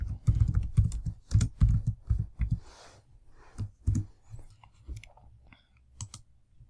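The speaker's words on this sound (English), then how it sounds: "I type in either the name of the place I want to locate or the full address, including the postcode" Rapid clattering keystrokes on a computer keyboard, close and dry, in dense bursts that thin out into a few scattered taps toward the end, with no talking.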